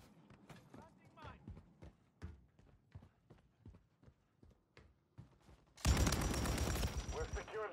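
A match of a first-person shooter: sparse sharp gunshots crack at a distance, then a sudden loud sustained burst of close automatic fire dominates the final seconds.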